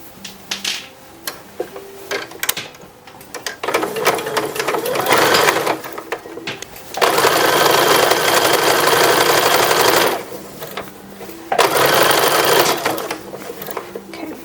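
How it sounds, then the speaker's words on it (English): A sewing machine stitches a 1930s-style toddler wrapper in loud, close bursts of rapid mechanical whirring, starting, pausing and resuming several times, with quieter handling noise in the gaps between runs. "So I was going to sew this so I can show you what it looks like."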